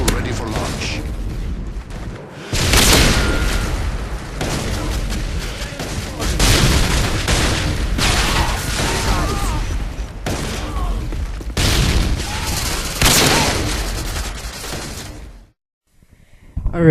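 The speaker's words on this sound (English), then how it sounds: "Repeat, Predator missile ready for launch." A Predator missile strike in a video game: loud, sustained rumbling booms and bursts of gunfire roll through in waves for several seconds, then cut off abruptly, with voices heard over the din.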